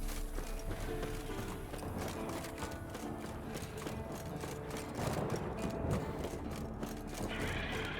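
Rhythmic hoofbeats of a horse at a gallop in the video game The Witcher 3, steady and fairly faint, mixed with low mechanical game sounds and a brief whinny-like noise.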